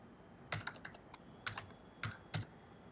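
Quiet keystrokes on a computer keyboard while a URL is typed into a text file, a few short bursts of clicks separated by brief pauses, close and soft with no talk.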